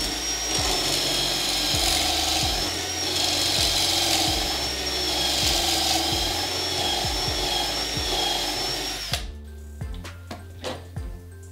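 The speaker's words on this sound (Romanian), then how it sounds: "Eu o să găuresc doar una." A hole is drilled into wood using a wolfcraft 4642 Undercover Jig, a steady power-drill whine with rhythmic grinding pulses, close and continuous, stopping abruptly into a few clicks and handling knocks.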